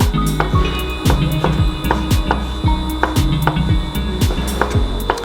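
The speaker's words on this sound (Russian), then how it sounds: "Шампиньоны также режем на мелкие части." A knife chopping button mushrooms into small pieces on a cutting board gives repeated crisp, close taps at a brisk, even rhythm, heard over continuous background music with no speech.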